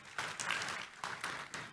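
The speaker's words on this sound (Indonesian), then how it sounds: "Tepuk tangan dulu yang meriah buat Tuhan Yesus." A church congregation clapping together, a faint, distant wash of applause with a few louder swells, short and quiet.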